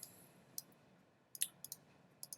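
A computer mouse clicks in short, faint bursts, with a few scattered clicks including a double click, heard alone in a quiet room while new shapes are edited in a web mapping app.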